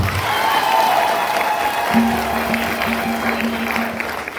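A congregation at a church jubilee Mass with an archbishop claps in sustained, dense applause that fills the space, with a steady low hum joining halfway through.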